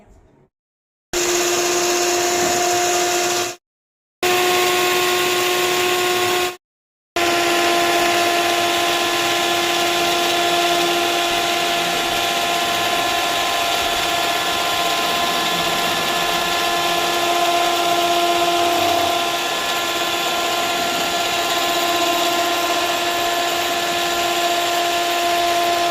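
An electric hand mixer whips vanilla-flavored cream for bun maska with a steady high whine, stopping briefly twice before running on continuously, loud and close.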